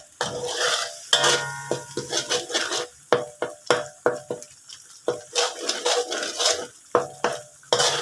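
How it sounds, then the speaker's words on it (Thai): Chili paste sizzles and fries in a hot pan while a utensil scrapes and stirs it in quick, repeated strokes, with clattering metal-on-pan knocks punctuating the steady sizzle. "ผัดพริกให้หอมก่อน"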